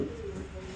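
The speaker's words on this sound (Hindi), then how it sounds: "ये देखो, कासनी सा कबूतर है" A lilac-coloured Malwai pigeon gives a brief, low, throaty coo, close and fairly soft, over a murmuring background with no talking.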